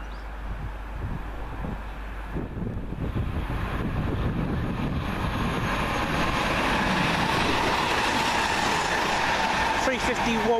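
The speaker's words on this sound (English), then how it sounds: "Next up for London Midland, 1U34 from Crewe to London Euston." A London Midland passenger service from Crewe to London Euston passes near Wolverton, a rising rush of wheels and rail noise mixed with wind buffeting, building from a rumble to a loud steady roar.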